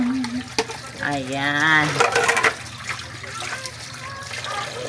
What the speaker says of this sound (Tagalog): Andito po tayo, maghugas ng plato.